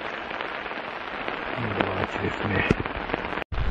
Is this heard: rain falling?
yes